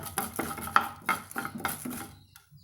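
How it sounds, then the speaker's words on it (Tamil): Chana dal dry roasting in a pan, stirred with a spoon: a run of light rhythmic scraping and rattling strokes, close and fairly quiet, fading out at the end with no voices. "அதே அளவுக்கு கடலப்பருப்பு சேர்த்திக்கிறேங்க இதையும் நம்ம தீயாமல் ட்ரையாக நல்லா பொன்னரமாக வர அளவுக்கு வறுத்துக்கலாங்க"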